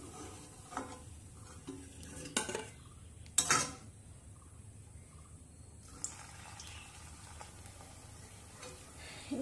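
Eggless imitation eggs for a vegetarian korma fry gently in a pan, a faint low sizzle broken by a few sharp metallic clinks of a spatula, quiet and close with no talk.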